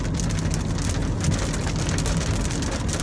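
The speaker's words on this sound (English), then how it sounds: "Drizzling, like literally just drizzling." Steady rain beating on a road during a motorcycle ride, a dense continuous hiss with low rumbling road and wind noise underneath, no voices.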